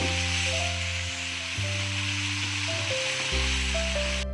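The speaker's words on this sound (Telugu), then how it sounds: "బంగాళాదుంప ముక్కలు కొంచెం వేగిపోయాయండి" Potato pieces fry in a pan, giving a steady, fairly loud sizzle that continues without a break over a low, shifting background hum, with no speech.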